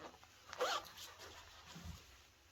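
A simple zip on a heated winter vest is pulled in one quick, close rasp, followed by faint handling and a soft low thud.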